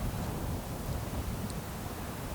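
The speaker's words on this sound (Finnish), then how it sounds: "aika tuulinen on keli. Puhaltelee varmaan 8 metriä sekunnissa melkein koko ajan." Strong outdoor wind of about 8 m/s buffets the microphone in a continuous, rumbling roar, loud and close with no other sounds.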